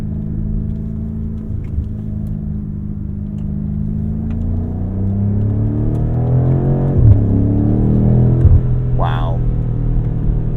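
A 2021 BMW F90 M5 accelerates hard, its engine note climbing steadily in a loud, continuous rising rumble up close, with a voice talking over parts of the run.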